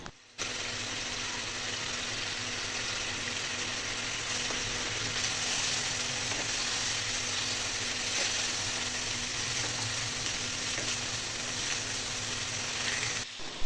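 Chicken frying in a kadai with garlic ginger paste, a continuous broadband sizzle holding steady and close for the whole stretch, with no talk over it.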